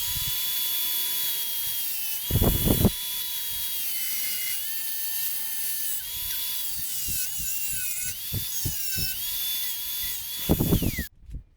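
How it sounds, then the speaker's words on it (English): An angle grinder with a metal cutting wheel cuts steel for a 6-inch levelling file, a sustained high whine that runs steadily throughout with louder grinding bursts near the start and end before stopping abruptly. "But I'm going to use my angle grinder."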